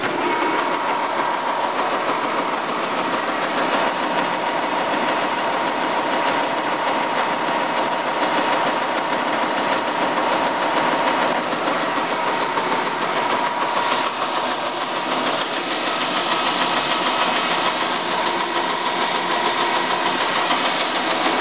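Timesaver 125 wide belt sander with in-feed and out-feed pressure rollers running, a loud steady broadband roar with a high mechanical whine, continuous and close for the whole stretch.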